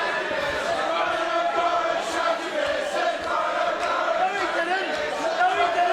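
A vocal pro wrestling crowd in Queenstown, New Zealand, at an SPW match between Jade Diamond and Hammer, chants and cheers in a dense, sustained wall of voices with talk woven through.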